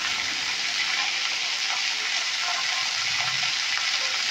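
Eggplant and mixed vegetables fry in a pan with salt and turmeric for a Bengali chorchori, giving a steady, close sizzling hiss with faint stirring scrapes throughout and no talk.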